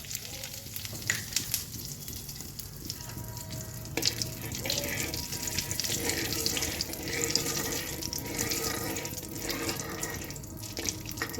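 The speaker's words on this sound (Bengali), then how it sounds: "তেলটা ভালোভাবে গরম হয়ে গেছে এর মধ্যে আমি একটু হিং দিয়ে দেবো" Asafoetida frying in a generous amount of hot mustard oil in a wok, giving a soft, steady sizzle and crackle that runs throughout with faint background noise.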